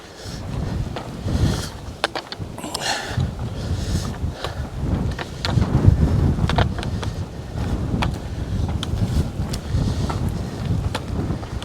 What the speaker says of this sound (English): Man, that wind almost blew me over.